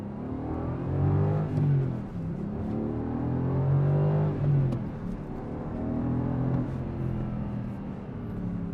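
A manual 2020 Aston Martin Vantage AMR engine revs and climbs in pitch, easing off and rising again in a few surges as it pulls through gears, steady and fairly close.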